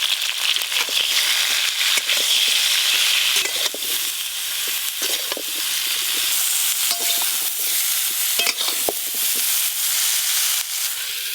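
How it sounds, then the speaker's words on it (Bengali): Cut and washed cauliflower florets with salt and turmeric frying in hot oil, a loud near sizzle broken by frequent sharp knocks and scrapes of stirring, no talk. "এবার ফুলকপি দিয়ে কাঁকড়া রান্নার জন্য ফুলকপিগুলো ভেজে নেব।"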